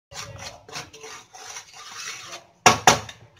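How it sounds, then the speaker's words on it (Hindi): Semolina being dry-roasted in a pan, with light scraping and rubbing strokes of a spoon stirring the grains, ending in two louder knocks of the utensil against the pan. "इसलिए पहले हम सूजी भूनेंगे।"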